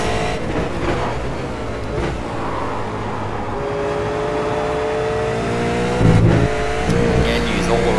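V8 Supercar engine lapping Oulton Park in the iRacing simulator: a steady, droning engine note that rises and falls with revs and gear changes, with a louder surge near the end.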